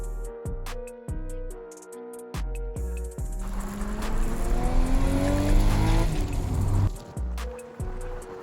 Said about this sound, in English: began to cruise the streets of New York in my brand new to me Toyota